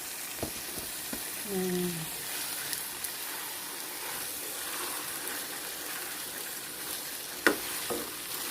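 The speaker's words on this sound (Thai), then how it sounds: "ค่ะผัดให้เขาหอมหอมนะคะ" Garlic, coriander root and pepper are stir-fried in a pan for braised pork leg, giving a steady, close sizzle with occasional scrapes and clinks of the utensil and a brief voice.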